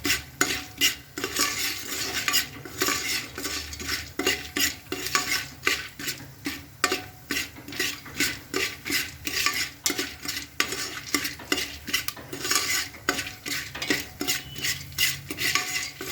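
Raw corn kernels are stirred and roasted in a pan to make homemade popcorn, with a fast, continuous rhythm of utensil scrapes and rattling kernels over a dry sizzle. Nobody speaks.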